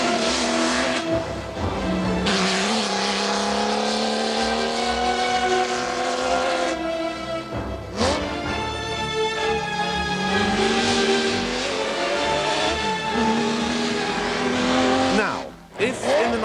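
Classic Ferrari racing car engine rising and falling through revs, loud and close with a brief squeal of tyres, a voice talking over it at times.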